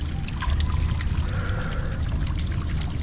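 Murky river water flowing and splashing near a small boat ride, a steady close watery rush with trickling and dribbling detail, no talking.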